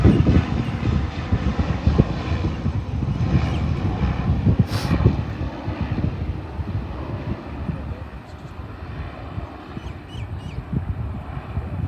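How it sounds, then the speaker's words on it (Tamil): Small passenger airplane on a flight to New Zealand near a seaside airport, a steady loud engine and propeller drone with rumbling low end that persists throughout, and voices audible underneath. "கொஞ்சம் சிறிய ஃப்ளைட் தான், நியூசிலாந்துக்குரிய ஃப்ளைட் தான்."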